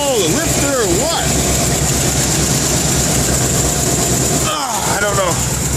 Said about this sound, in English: It's making a tapping noise, like it's a lifter or something.